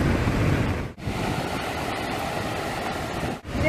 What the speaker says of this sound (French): Regardez un peu comment la cascade coule.